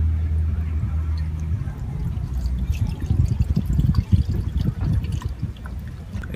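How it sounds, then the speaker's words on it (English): Window washer fluid glugs and trickles as it is poured into the reservoir of a 2005 Mini Cooper S R53, a close, steady liquid pouring sound. "I bought some window washer fluid. So I'm going to be putting it in the reservoir right there and the one right here."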